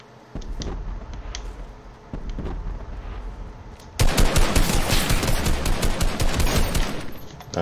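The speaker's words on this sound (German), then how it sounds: "Er drückt mir aber auch direkt einen Headshot" Rapid automatic gunfire in Fortnite, with a headshot landing on the player: bursts of shots, then a loud, continuous volley that dominates the second half.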